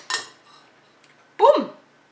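A metal utensil stirring food in a pan or bowl, two short scraping clinks with a quiet gap between them, close and clear.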